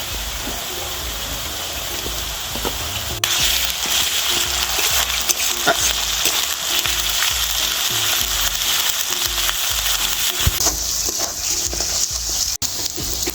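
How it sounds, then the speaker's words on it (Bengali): Chopped onion sizzles and fries steadily in a hot pan as ginger and garlic go in, a continuous close hiss with occasional stirring scrapes and no talking. "পেঁয়াজটা ভেজে নিয়েছি এবার আদা রসুনটা দিয়ে দেবো"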